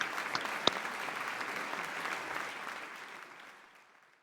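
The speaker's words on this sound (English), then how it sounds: "So let's give them a round of applause and thank you so much." Audience applause for panelists at a literacy summit session, a steady, moderately quiet patter of clapping that gradually fades out toward the end.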